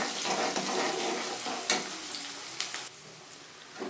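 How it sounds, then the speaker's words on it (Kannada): Onion and tomato fry in oil in a pan for upma, giving a steady sizzle with a few sharper crackles and stirring scrapes, close up and with no talking. "ಸೊ ಈಗ ಈರುಳ್ಳಿ ಟೊಮೆಟೊ ಫ್ರೈ ಆಗಿದೆ."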